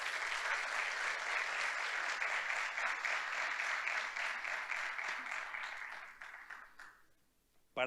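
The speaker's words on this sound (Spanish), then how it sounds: "Dale un aplauso al Señor." Church congregation applauding during a sermon, a steady wash of clapping that holds for several seconds and then fades out quickly before a brief sound at the very end.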